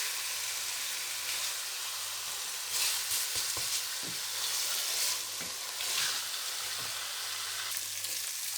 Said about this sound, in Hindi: यहाँ हम कीमा भी शामिल कर देंगे